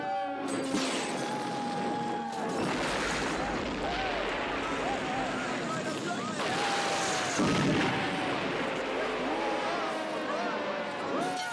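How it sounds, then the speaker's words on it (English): Gunfire and explosive bursts in a street riot from the video game Death Wish 3, repeated booming shots over a dense, chaotic background, with a voice talking through it. "Be advised, we have shots fired in the street."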